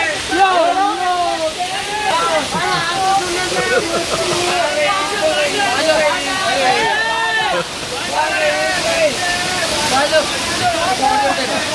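Urulikkundu waterfall in Kannur pours in a constant, broad rushing wash. Voices run almost continuously over the water throughout.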